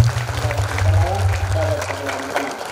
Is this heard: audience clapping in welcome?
yes